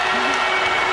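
Basketball crowd roaring in a women's college game between Iowa and Drake just after a three-pointer, a loud continuous wash of cheers and applause filling the arena.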